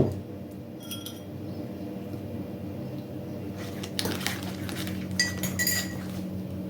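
A spoon stirs cake batter in a bowl, with scattered clinks against the dish and soft squishing, quiet and close, growing busier and more clattery toward the end.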